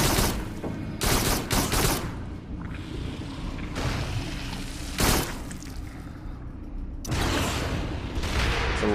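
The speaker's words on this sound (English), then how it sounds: "Fire one of these rockets when I get a good chance." Laser-guided rockets firing in the VR shooter Farpoint, with loud bursts of launching blasts and explosions in irregular clusters over continuous combat noise.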